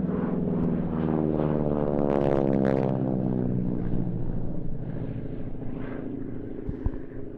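A North American Harvard trainer flies past at the Duxford air show, its propeller engine droning loudly, the tone rising and falling as it passes at a distance before fading into a lower rumble.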